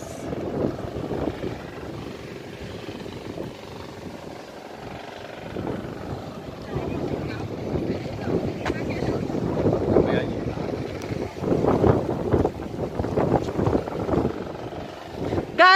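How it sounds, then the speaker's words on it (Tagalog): Strong gusts of wind at Shek O beach, Hong Kong, buffet the microphone in a steady, rumbling roar that swells louder toward the end, with voices faintly underneath. "it's very windy here"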